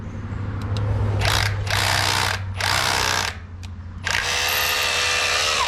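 Power drill working at a commercial septic system repair, loud bursts of drilling broken by short pauses, three separate runs and then a longer sustained one, close to the listener.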